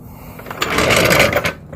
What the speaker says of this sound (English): I'm going to go ahead and release my jack.